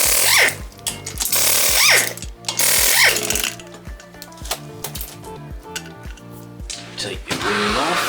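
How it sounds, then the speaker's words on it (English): Loud bursts of an impact wrench undo the wheel bolts on a VW Passat GTE B8, each rapid hammering rattle rising and stopping in turn over several seconds. "undo your wheel bolts"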